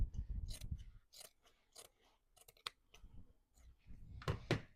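Scissors cut through a placemat in a run of close crisp snips and crunches, irregular and fairly quiet, with brief pauses between cuts and no speech.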